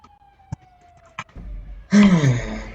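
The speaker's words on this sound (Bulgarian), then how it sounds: "Защо винаги се чуват сирени?" Police sirens in Grand Theft Auto V wail and warble in the distance, rising over a low rumble after a couple of sharp knocks.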